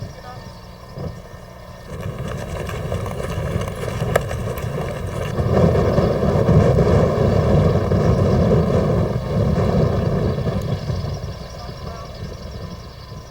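Airship propellers droning during a landing approach in gusty autumn winds, a steady mechanical hum overlaid with rushing wind that swells louder midway, with voices faintly underneath.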